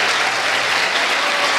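A church congregation claps together in praise during a worship service, a short burst of dense, even applause filling the room.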